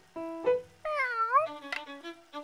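A cartoon cat, a square-shaped feline character in an animated show, gives two clear meows, a short one followed by a longer, wavering, higher-pitched one, then quieter trailing tones.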